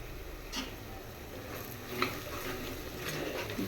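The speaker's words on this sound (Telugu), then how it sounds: "కలిపేసుకుందాం." Onions and chili powder being stirred in a pan for chicken curry, with steady scraping and soft sizzling and a few sharp utensil clinks against the pan, close and fairly quiet.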